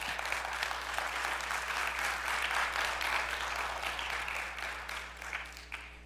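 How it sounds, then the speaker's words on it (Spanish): A church congregation claps for the Lord, a dense, sustained round of applause from many hands that holds steady and thins slightly toward the end over a low background hum. "Ahora, dale un fuerte aplauso,"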